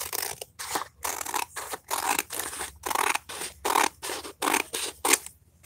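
Scissors snipping paper for a bullet journal, a run of crisp rhythmic cuts, each a short papery crunch with brief gaps, close and fairly loud with no talk.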